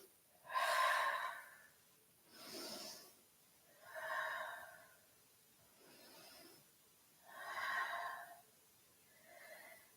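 Heavy, rhythmic breathing during a yoga flow through plank, back bend and downward dog: five or six loud, airy inhales and exhales spaced about two seconds apart, close to the mic with no talking.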